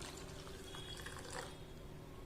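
About a quarter cup of water poured into a pan of jaggery in a home kitchen, a soft steady splashing trickle with a faint hiss, close and quiet throughout.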